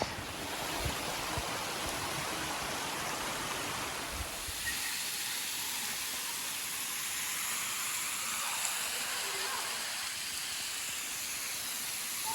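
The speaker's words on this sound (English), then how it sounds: "The waterfall right there." Steady broadband rush of a waterfall at Hemmed-in Hollow on the Buffalo National River, loud and continuous under tall bluffs, shifting slightly as the listener moves closer, with no talking.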